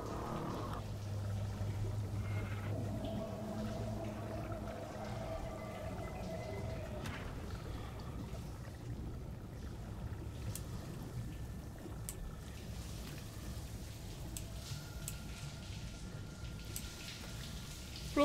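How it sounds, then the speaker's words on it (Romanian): Blood rain patters steadily in Outlast 2, a soft continuous wash of drops over a low background hum, with faint scattered knocks and no talking. "plouă cu sânge, pretty nice."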